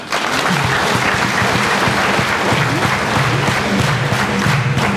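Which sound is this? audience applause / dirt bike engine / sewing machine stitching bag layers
audience applause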